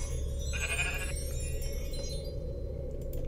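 In a video game, a single short sheep bleat sounds after an enemy is transformed into a sheep, brief and fairly faint over a low background drone.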